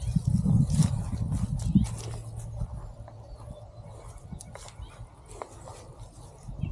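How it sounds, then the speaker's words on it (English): A dog barks in a short burst near the start while out walking, then quieter scuffling and faint sounds follow. "You heard that dog barking?"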